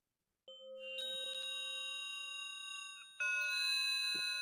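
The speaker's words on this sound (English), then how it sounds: "leaving these bells to play" Synthesized electronic bells in a Csound music piece, sustained tones that strike one after another and ring on, with a second, brighter chord entering near the end; clean and alone, no talking.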